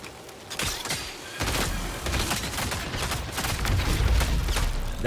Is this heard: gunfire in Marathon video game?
yes